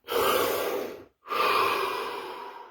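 A deep breath during a guided relaxation session: a long, loud, close inhale, a short pause, then a slow, breathy exhale trailing off.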